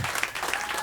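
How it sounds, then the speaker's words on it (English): Audience applause at a standup comedy show, a short burst of steady clapping filling the room with no talking over it. "Like, a lot of applause."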